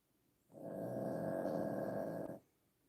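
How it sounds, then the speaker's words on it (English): A dog named Daisy lets out a single long, rough snore, a steady rasping breath of about two seconds that starts and stops cleanly over a quiet room. "Hear Daisy snoring?"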